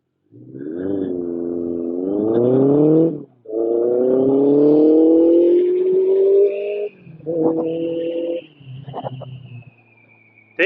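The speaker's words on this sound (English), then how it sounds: "let's see what the acceleration's like, shall we?" BMW K100 cafe racer motorcycle accelerating hard, loud and close, its engine note climbing through several long rising pulls separated by brief gear-change dips, then easing off toward the end.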